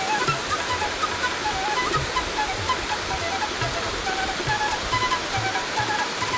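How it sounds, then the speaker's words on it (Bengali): Water pours through a sluice gate near Dhanbad in a loud, constant rushing roar that fills the whole span, with faint voices just audible underneath. "স্লাইস গেট দিয়ে দেখুন জল পড়ছে তুলোর মতো জলগুলো পড়ছে"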